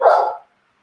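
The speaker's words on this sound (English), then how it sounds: "Sorry, my dog's barking." A dog gives a single loud, close bark indoors at home, short and sharp, then silence.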